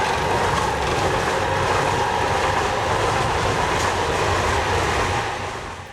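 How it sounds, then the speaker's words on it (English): A Snowdon Mountain Railway train descends from the summit, a close, loud and steady rumble of rolling wheels and rail noise that fades slightly at the end. "the Snowdon Mountain Railway's morning service train is just descending from the summit"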